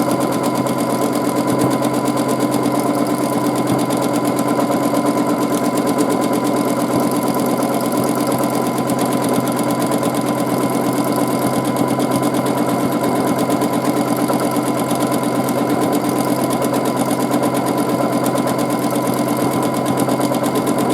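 A sewing machine runs steadily for free-motion quilting of extended swirl patterns, its rapid needle chatter and motor hum continuous and close with no pauses or voices.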